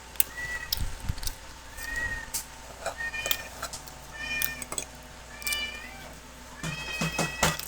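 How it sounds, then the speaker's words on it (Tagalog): A cat meows again and again in a home setting, several separate rising cries spread across the stretch, fairly close and clear over quiet background. "Panay na naman ang yaw ng pusang yan."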